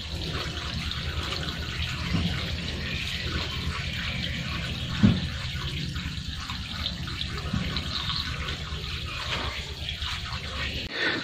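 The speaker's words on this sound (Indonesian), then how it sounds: "Oke, kita akan sedot dulu. Ini air dari sana ke sini." Water siphoned from one turtle pond into another, a continuous close trickling and gurgling flow with a small splash midway, no talking.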